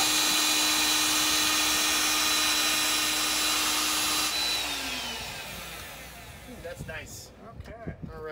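Small power vacuum cleaner sucking up metal drill chips after drilling a Boeing 747, a steady whirring drone that winds down midway, followed by someone talking close by.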